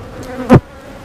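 Honeybee buzzing near a beehive, a single short close pass of a buzzing insect that swells and fades in about a quarter second over a quiet background.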